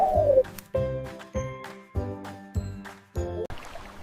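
A pigeon coos in a steady series of about six low, throaty calls, each followed by a short pause. The calls are close and clear, with a faint tinkling near the end.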